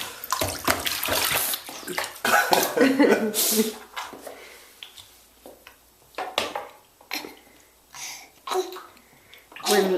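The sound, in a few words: child being bathed in a bathtub with water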